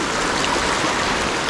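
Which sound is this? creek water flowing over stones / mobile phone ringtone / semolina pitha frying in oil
creek water flowing over stones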